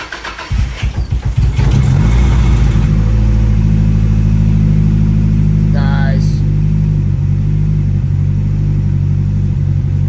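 A Nissan 180SX engine cranks and catches with a few rapid pulses, then settles into a loud, steady, rumbling idle up close, with a brief sharp tone partway through.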